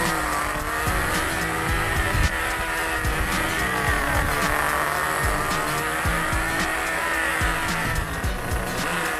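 Small nitro RC car engine running steadily at close range on a rich tuning setting, a buzzing high-pitched whine with slight rises and falls in revs, no talking.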